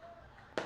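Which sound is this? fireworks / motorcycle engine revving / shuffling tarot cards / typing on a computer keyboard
fireworks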